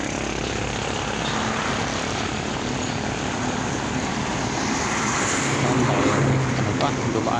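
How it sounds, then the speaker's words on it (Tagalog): A container van truck rumbles past on a road beneath an overpass, a loud continuous engine and tyre roar over steady traffic noise that swells slightly near the end. "dumaan pang container van"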